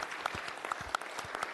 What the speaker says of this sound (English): And you can applaud for that.